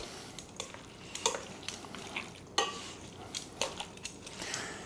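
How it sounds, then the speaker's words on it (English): Chicken fajita mixture with lime juice being stirred together, soft repeated scrapes and clinks of utensil against dish in an uneven rhythm, close but fairly quiet. "And mix this all together."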